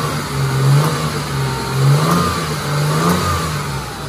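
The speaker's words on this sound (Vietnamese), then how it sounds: "Máy nổ chắc lịch luôn anh em ạ." A Ford car engine revs repeatedly in short rising and falling bursts, loud and close, with a steady idle between throttle blips and no talk.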